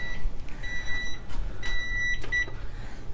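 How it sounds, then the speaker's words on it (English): Oven timer beeping in a kitchen, a short series of thin, steady high-pitched beeps in repeated bursts, fairly clear over a low background hum. "I thought my timer's going off on my oven."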